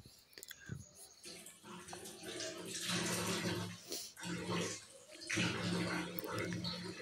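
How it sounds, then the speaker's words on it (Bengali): Hot water is poured from a kettle or pot into a home water filter on a cold day, with uneven splashing surges that swell and fade as the pour continues, close by. "এই যে ফিল্টারে ঢেলে দিচ্ছি এখন"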